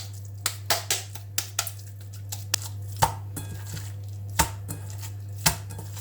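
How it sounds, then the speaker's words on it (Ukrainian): Minced meat mixed with rice for meatballs, being beaten and slapped down, heard as a series of sharp, close, irregular thumps over a steady low hum. "Ось такий фарш виходить, його можна трошки відбити."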